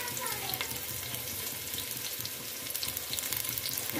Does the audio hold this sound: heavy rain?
no